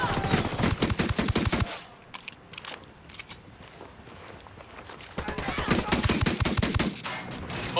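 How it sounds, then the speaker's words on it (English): Gunfire in Ghost Recon Wildlands: dense bursts of rapid automatic fire at the start and end, with a quieter middle stretch of scattered single shots, and a voice speaking in between. "Se han detectado disparos."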